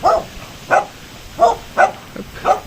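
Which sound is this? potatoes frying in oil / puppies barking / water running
puppies barking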